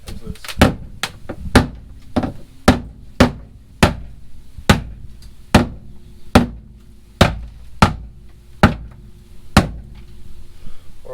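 A hammer whacks sound deadening material loose on a first-generation Toyota Celica project car, a steady series of about fourteen sharp, loud blows at an even pace.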